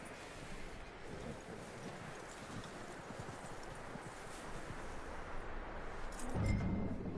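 Horse hooves clip-clopping in Red Dead Redemption II, a steady dense patter of footfalls over broad outdoor ambience, growing slightly louder and heavier near the end.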